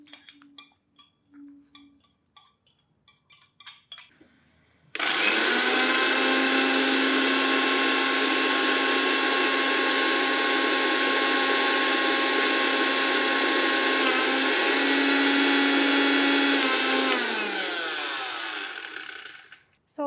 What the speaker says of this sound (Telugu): మేడం వేసేయండి మేడం, మిక్సీ పట్టుకుందాం